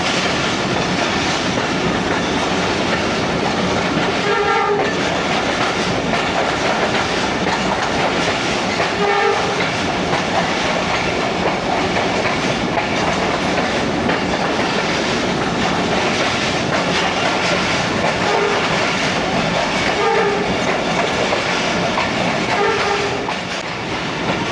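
The Sialkot Express passenger train rushes past, a loud, steady roar of rolling wheels and clattering cars lasting throughout, with a few short horn blasts cutting through the din.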